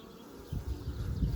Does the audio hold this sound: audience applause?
no